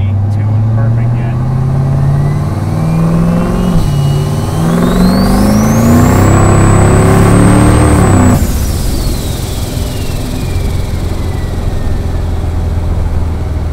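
A turbocharged LS-powered Chevrolet Caprice wagon pulls hard at partial throttle, its engine note climbing steadily through the revs with a rising turbo whine before cutting off at a shift, loud and close from inside the car.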